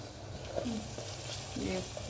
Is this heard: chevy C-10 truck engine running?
no